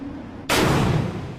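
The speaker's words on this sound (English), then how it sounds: "The Stinger's launched by a small ejection motor that pushes it a safe distance from the operator" FIM-92 Stinger shoulder-fired surface-to-air missile launching, one sudden loud blast that cuts off a quiet hum and then decays into a broad roaring rush.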